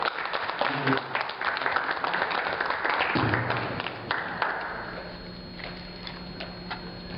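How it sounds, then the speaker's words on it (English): Audience claps for a speaker at a panel discussion, a few seconds of scattered applause that thins out midway and gives way to low room noise and a steady hum, with murmured voices underneath. "Let's have a round of applause."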